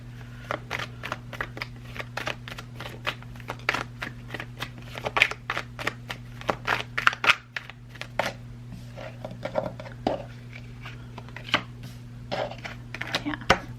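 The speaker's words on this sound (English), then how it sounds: "I love to shuffle like this" Tarot cards being shuffled repeatedly up close, a series of crisp riffling snaps and slaps in an irregular rhythm over a low steady hum.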